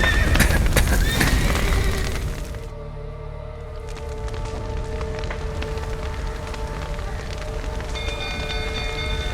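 Horses whinny and their hooves clip-clop in The Witcher 3 video game, the neighs loud and close early on, then settling into steady hoof beats under a constant patter of rain.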